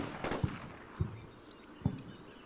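Gunfire in the Combat Mission Black Sea war game, three faint distant cracks roughly half a second apart over a steady background hiss.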